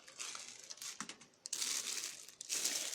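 Crinkly plastic and paper packaging from an Anypro ambient diffuser being unwrapped, with close, continuous crumpling and brief tearing rustles that swell louder in the second half, no talking.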